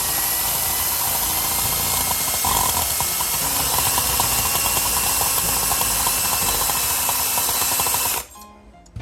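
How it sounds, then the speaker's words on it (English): A 1967 MGB dashboard gauge runs on the bench with its mileage counter turning, giving a steady whirring mechanical drone with faint ticking for about eight seconds before it stops abruptly. "I'm gonna keep it on for a little bit and see if the mileage counter works also."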